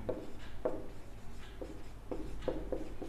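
Pen or chalk strokes of a maths proof being written out, a run of short scratchy marks spaced irregularly over a quiet room background, no talking.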